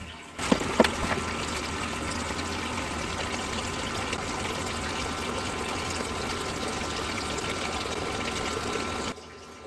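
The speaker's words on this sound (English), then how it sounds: "Now we'll check the combustion with the hot water out the tap." Hot water running steadily from a tap during a Baxi combi boiler service, a continuous rushing flow that starts abruptly and holds at an even level for about nine seconds before cutting off.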